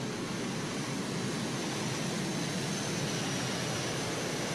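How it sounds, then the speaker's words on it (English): The Dutch pulling tractor Thunderbird, powered by four Rolls-Royce Gnome turbines, roars with a loud, steady turbine whine and rushing noise at a competition pull. "the Dutch tractor Thunderbird. Powered by 4 Rolls-Royce Gnome turbines"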